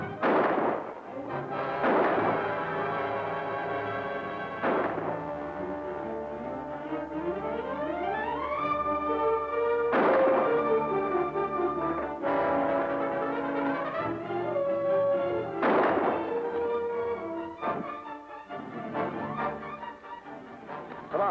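Gunshots in a 1946 western film, a series of sharp reports roughly every couple of seconds, each with a ringing echo, set against swelling orchestral music.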